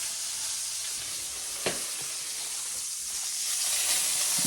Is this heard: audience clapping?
no